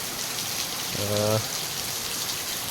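Steady first monsoon rain hisses throughout, close and even, with a brief low tonal hum rising out of the downpour near the one-second mark.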